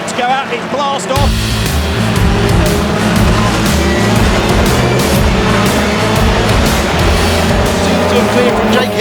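BTCC touring cars launching at a race start at Silverstone, a loud roaring wall of engines surging in after a brief quiet moment and holding steady, with a commentator talking over it.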